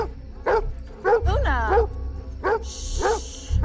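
A dog barks in a short series of yips and bow-wows, about five or six sharp calls spread evenly, close and fairly loud over a dim background, in a film scene.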